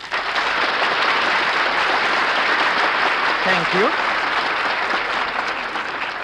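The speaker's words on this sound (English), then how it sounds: "will you please stop applauding these guys?" Steady, loud applause from an audience at a live radio theatre show, continuous throughout, with a brief spoken word cutting through midway.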